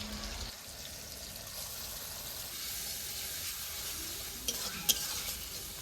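Ginger, cumin and green chili paste sizzles and spits in a hot pan for a vegetarian jackfruit-seed paneer dish, a steady close frying hiss with stirring scrapes and a couple of sharp pops near the end.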